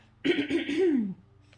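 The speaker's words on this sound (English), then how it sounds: "let me just clear my throat" A single close, rough throat clearing with a harsh, gravelly rasp that trails off, followed by quiet.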